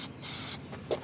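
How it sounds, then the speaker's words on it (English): Aerosol can of Plasti Dip spraying a car rim along index-card masking, two steady hissing bursts close by, the second longer, with a short clack near the end. "Just spray right along the index cards."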